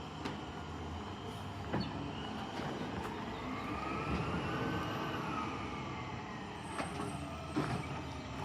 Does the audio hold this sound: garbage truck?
yes